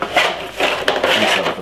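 Butter being rubbed inside a cake pan for a sponge cake, producing soft repeated scraping and rubbing strokes against metal, close and brief with no talk.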